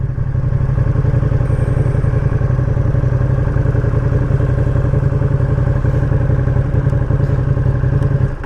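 A 2020 Ducati Panigale V2 rides past, its engine a loud, steady, throbbing drone that holds constant throughout and tapers slightly at the very end.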